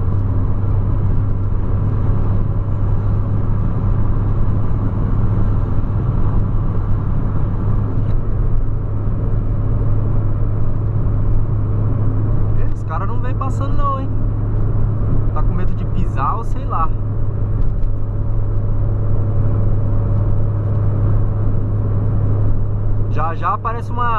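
A Polo sedan accelerates on a highway, with a steady loud engine drone and road rumble throughout and someone talking over the cabin noise.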